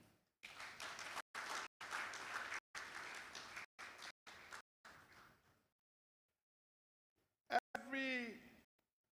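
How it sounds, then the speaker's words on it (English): Delegates at the 6th African Actuarial Congress applaud in a hall, a loud burst of clapping in uneven chunks that fades out after about five seconds, followed by silence and a brief voice. "Shall we clap for them?"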